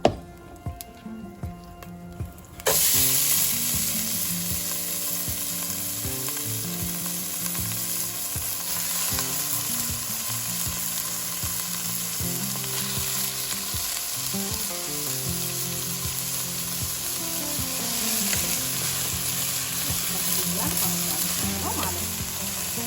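Washed rice frying in hot oil in a pot for lamb mandi, a steady loud sizzle that bursts in abruptly after a quiet start and continues with stirring scrapes and crackle, no talk.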